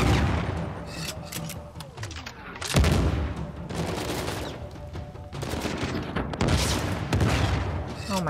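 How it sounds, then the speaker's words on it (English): Blind-fired gunfire in the video game Uncharted 4, sounding as a steady barrage of shots and bursts with heavy booms over about eight seconds, fairly loud and continuous. "That great blind firing."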